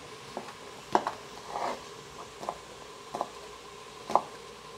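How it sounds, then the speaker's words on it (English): A knife cuts home-style garlic sausage into cubes on a board, with sparse, separate chopping taps at irregular intervals, fairly quiet and close, with no talking. "I'm just going to cut these into cubes"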